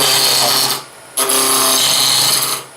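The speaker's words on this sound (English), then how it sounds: "But we'll go back to the spindle roughing gouge." A spindle roughing gouge cuts a spinning wood blank on a lathe while turning a pencil cup. Two loud, steady rasping cutting passes are separated by a short lull as the tool lifts off the wood.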